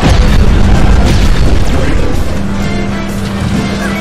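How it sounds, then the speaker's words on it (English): A missile launcher explosion in the Cars 2 video game: a loud, deep rumbling boom that fills the whole stretch, with a steady low hum running underneath. "Missile launcher acquired. This is a little gift."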